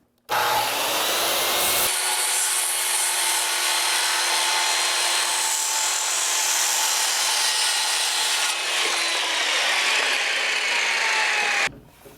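Handsaw cutting the plumb cut across a wooden roof rafter: a steady, loud, continuous rasping stroke for about ten seconds, close up and without speech, ending abruptly as the cut finishes.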